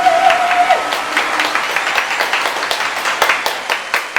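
A studio audience claps for an actress on a comedy talk show, with scattered, uneven applause that follows a brief tone at the start and carries on at moderate loudness.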